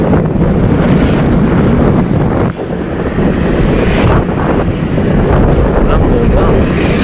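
Strong, gusting wind roars steadily across the microphone at an outdoor kite-flying gathering, a loud continuous rush with brief dips and surges.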